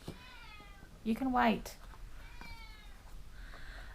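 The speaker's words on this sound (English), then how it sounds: "Sorry about that, that's my cat." A pet cat meows loudly near the microphone, a single rising, drawn-out call in the middle, while someone talks quietly before and after during a tarot card reading.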